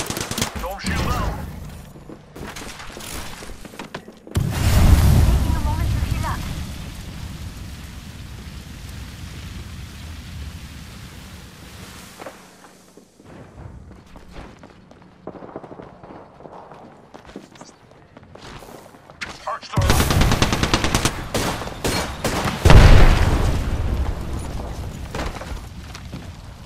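Automatic gunfire in the battle royale shooter Apex Legends comes in two loud bursts at the start and near the end, with quieter stretches, footsteps and player talk between them.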